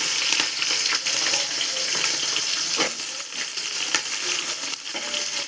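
Onions and green chillies go into hot oil for a Sunday biryani, hissing in a loud, steady, dense sizzle with scattered clinks and stirring scrapes, close and continuous with no voice.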